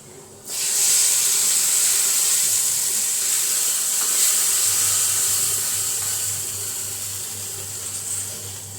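Dried red chillies and curry leaves hit hot oil with a sudden loud hiss, a steady bright sizzle that carries on for several seconds before slowly easing, close and with no voices.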